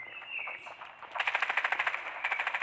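Rapid bursts of automatic gunfire in a shooting video game, a faint early tone giving way to a fast, evenly spaced string of close, sharp shots.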